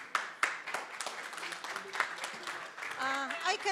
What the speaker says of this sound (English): And big round of applause for Yola.